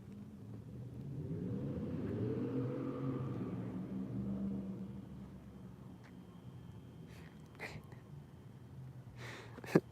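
A car approaches up a street after turning a distant corner, a low engine rumble swelling and fading over several seconds, with a few faint clicks and knocks afterward.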